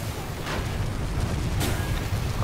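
Mines burst around an airship in the Guns of Icarus game, a continuous loud rumbling roar of overlapping explosions with a couple of sharper cracks rising out of the dense blast noise.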